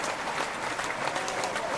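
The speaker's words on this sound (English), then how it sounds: "Would you give her an applause," A studio audience applauds to welcome guest Ramona Bridges, whose book concerns homelessness and mental illness. The clapping is steady and dense, fills the short span and is fairly close, with no voices over it.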